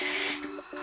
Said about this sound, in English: this is how you turn on a steam on a DeLonghi Dinamica coffee maker